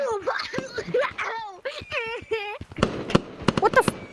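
Fireworks go off nearby, a quick run of sharp crackling pops and bangs that follows a stretch of excited, expressive voices.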